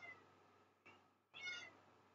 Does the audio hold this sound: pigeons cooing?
no